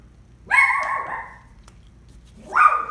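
A dog gives two barks, the first a longer, drawn-out yelp that trails off and the second a sharper bark after a short pause, both fairly close with a faint hum underneath.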